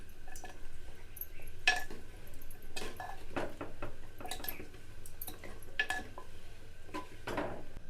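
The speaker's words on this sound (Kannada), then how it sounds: "ಈಗ ಇದನ್ನು ಕೈ ಆಡೋಣ್ರಿ." A spoon stirs masala simmering in oil in a cooking pot, giving close, irregular metallic scrapes and clinks against the pot over a low background hiss.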